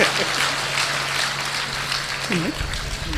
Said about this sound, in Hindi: एक बार कमल जी के लिए जोरदार तालियां आप बता दें